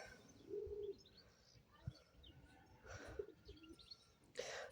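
Faint birdsong outdoors: soft cooing and scattered chirps from a distance, with a brief sharper call near the end.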